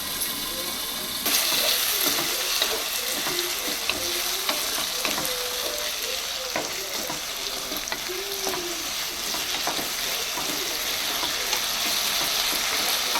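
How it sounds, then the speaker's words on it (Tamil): Chicken gravy masala sautéing in a pan gives a steady, close sizzle, broken by repeated scraping strokes as a spatula stirs it over and over. "கொஞ்சம் வதங்கிட்டோம் கொஞ்ச நேரம் மூடி வைப்போம்"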